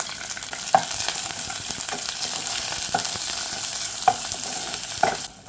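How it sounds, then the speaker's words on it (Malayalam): Dry red chilies and cashews fry in hot oil for Kerala-style chicken stew, a close, continuous sizzle with a few sharp taps of a spoon against the pan. "ഡ്രൈ ചില്ലി അതായത് ഉണക്കമുളക് കൂടെ ഇട്ട് കൊടുക്കുകയാണ്. ഈ കൂട്ടത്തിൽ തന്നെ ഞാൻ കുറച്ച് അണ്ടിപ്പരിപ്പ് കൂടി ഇതിനകത്ത് ഇട്ടിട്ട് കൊടുക്കുകയാണ്."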